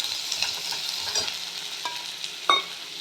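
Minced meat frying with onions in a pan, stirred with a utensil: a steady loud sizzle with scraping strokes and a few sharper clinks, no voices.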